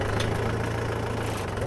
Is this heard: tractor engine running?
yes